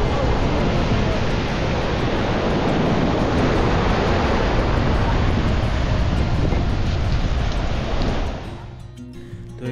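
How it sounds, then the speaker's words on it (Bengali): At night on Bagda beach in Odisha, sea waves wash in with a constant broad roar of surf and wind, loud and unbroken, until it drops off abruptly near the end. "কিন্তু কিছু দেখা যাচ্ছে না, এই সামান্য মাঝে মাঝে জল আসছে"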